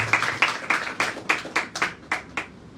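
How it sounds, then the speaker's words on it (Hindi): Clapping from a church congregation welcoming guests at a prophetic Sunday service, heard as a sparse, loosely rhythmic run of about ten distinct claps, moderately close and fairly loud, with no voices over it. "तालियों के द्वारा उनका स्वागत करें।"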